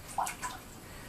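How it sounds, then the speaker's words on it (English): Water splashing in a bathtub with a child in it: one short close splash with a few drips, then quiet, with no talking. "Kate, are you in the bathtub?"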